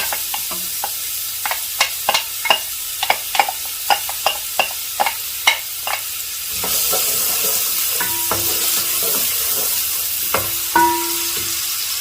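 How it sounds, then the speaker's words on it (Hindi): Chopped onions dropped into hot ghee in a pot for Afghani mutton pulao, a run of sharp spatula taps and scrapes over a low sizzle that then swells into a louder, continuous frying hiss. "एक पतीले के अंदर मैंने घी को गर्म कर लिया है, तो इसमें शामिल करूंगा प्याज।"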